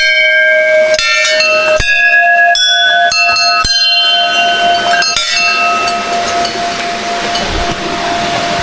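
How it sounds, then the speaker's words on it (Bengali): A temple bell at a hillside Hindu shrine in Assam is struck again and again in quick succession, each loud metallic clang ringing out with long shimmering overtones that pile up and slowly decay, with no talking. "এখন আবারও একটা মন্দিরের ঘন্টাটা বাজাই।"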